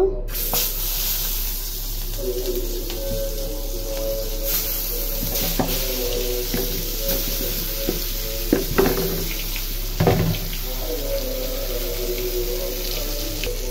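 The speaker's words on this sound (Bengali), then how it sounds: "বেগুনটা মশলা দিয়ে মাখে নিলাম, এখন তেলে ছেড়ে দিব।" Spiced eggplant slices fry in hot oil, giving a steady hiss and sizzle with occasional crackles and clinks of utensils throughout.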